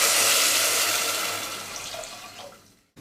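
Water pouring into a pot of ghee-roasted channa dal for payasam, a close, rushing splash that slowly thins and quiets over a few seconds before stopping.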